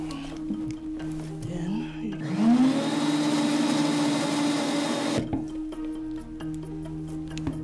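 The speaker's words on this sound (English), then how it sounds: "Blend that up." A kitchen blender whirs loudly for about three seconds in the middle, starting with a rising motor whine and cutting off abruptly, with quieter kitchen sounds before and after.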